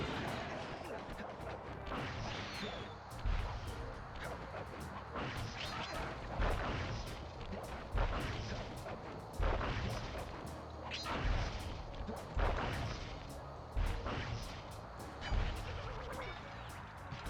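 Repeated pistol gunshots from Carmelita in the Sly Cooper video game, sharp cracks firing at an irregular pace over a busy game soundtrack with explosive crashes.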